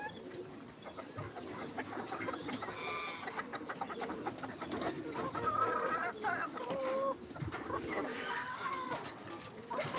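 Chickens cluck and chatter continuously throughout, with other birds calling in the background; a busy, close coop scene with no talking.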